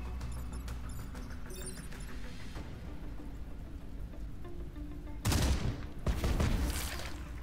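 Artillery fire in the turn-based strategy game Into The Breach, heard as bursts of booming blasts and crackling fire over a steady rumbling game backdrop, with two loud barrages near the end.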